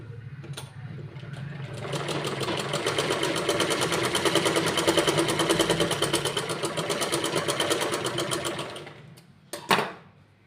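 A sewing machine runs steadily for about seven seconds, stitching tucks into a blouse, with a rapid even rattle. It slows and stops, followed by a brief clunk near the end.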